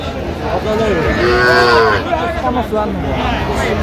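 Young bull calves lowing at a busy cattle market in Dinajpur, a clear drawn-out moo rising over the murmur of a crowd and someone talking nearby.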